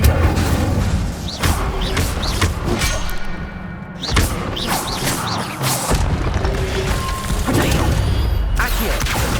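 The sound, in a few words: spell casting impacts in the video game Hogwarts Legacy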